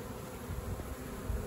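A honey bee swarm fans at a trap, giving a faint, even buzzing hum that continues without a break.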